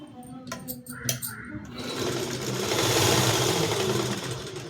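A sewing machine stitches the folded hem of a sari petticoat, starting with a few sharp clicks and handling sounds and then running into a continuous rapid, buzzing whir that swells and stays loud and close.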